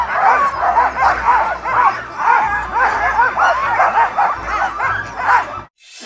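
A pack of sled dogs barks, yips and whines excitedly in continuous overlapping bursts, loud and close, at a winter dogsledding outing, ending in abrupt silence.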